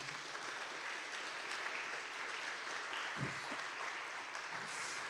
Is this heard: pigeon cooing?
no